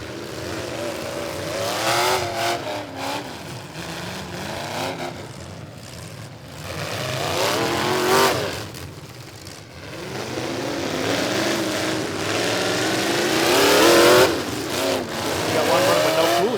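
Farm trucks roar away from the green flag at the Bash for Cash race, with loud engines revving and surging in repeated waves and a faint tire squeal, while an announcer talks over the noise.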